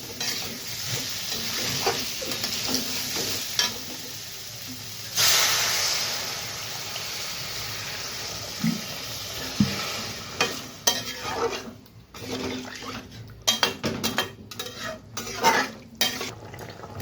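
Spice masala for an aloo and papaya dalna frying in a pan as water is poured in, giving a loud sizzling hiss that rises sharply, then settles into steady stirring with intermittent scrapes and clinks of a utensil, no voices.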